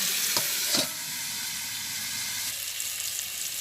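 Spices and cumin leaves sizzle in a pan during a village cooking session, with a soft steady frying hiss, a couple of brief clatters of stirring near the start, and faint background noise.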